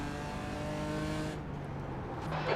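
A Porsche race car in the iRacing simulator holds a steady, loud engine drone with strong harmonic tones, its pitch shifting slightly near the end, with no talk over it.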